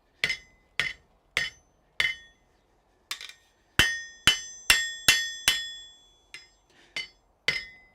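A hammer strikes hot steel at a forge, upsetting the bar near a lap weld, in a ringing series of about fourteen close, bright blows. They come in uneven groups, with some pauses and a quick run in the middle.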